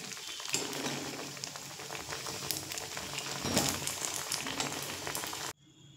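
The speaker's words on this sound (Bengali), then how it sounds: "তো একইভাবে আমি বাকি নাস্তাগুলো সব ভেজে নেব" Potato and tomato snacks frying in oil in a pan, with a steady dense sizzle and crackle close by that cuts off abruptly near the end.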